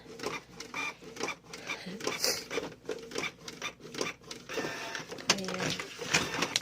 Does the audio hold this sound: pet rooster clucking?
no